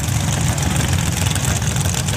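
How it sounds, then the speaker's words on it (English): A 672 cubic inch big block Ford engine in a Chevrolet drag race car at a championship final rumbles loudly and steadily at idle, a thick low lopey roar filling the whole moment. "a 672 cubic inch big block Ford powered Chevrolet"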